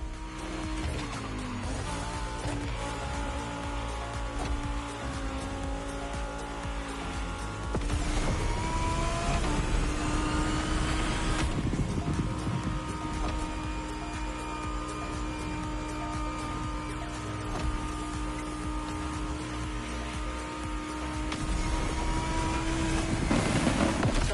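A Lamborghini Egoista in The Crew Motorfest accelerating hard out of a set of curves, its engine rising in pitch through several gear shifts, loud and continuous with no talk.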